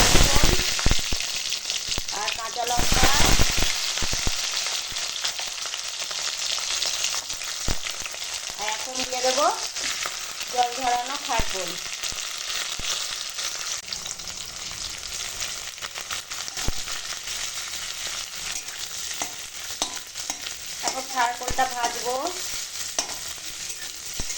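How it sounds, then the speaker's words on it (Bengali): Close, loud sizzling of nigella seeds and ginger frying in hot mustard oil, a constant crackling hiss with occasional stirring scrapes and no talking. "সর্ষের তেল দিয়েছি গরম হয়ে গেছে এখন দিয়ে দেবো কালো জিরে ফোড়ন আর দিয়ে দেবো আদা"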